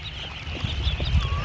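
Ducks at a farm quack in short, scattered calls at moderate distance over a steady background hiss.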